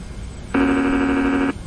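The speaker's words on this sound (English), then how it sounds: "Stabilizer motion. You're going to hear that notification or that alarm quite a bit in a 717 and MD-80 when you're playing around with the trim" A Boeing 717 cockpit stabilizer motion trim alert sounds as one steady, loud electronic tone lasting about a second, starting and stopping abruptly over a quiet cabin background.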